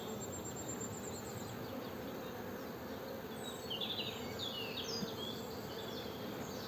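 Honeybees buzz in an opened beehive during a March spring inspection, making a dense, continuous, close hum with individual bees droning past, and no voices.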